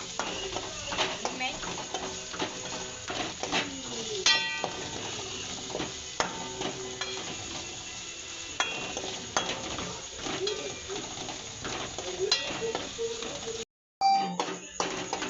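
Chili powder, turmeric and coriander-cumin powder are stirred into a sizzling pan, with a steady frying hiss under repeated scraping and clinking of a spoon against the metal, close and busy throughout, with a brief dropout near the end.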